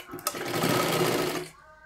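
Sewing machine stitching tucks on a blouse, a single close, steady whirring run lasting about a second and a half before stopping.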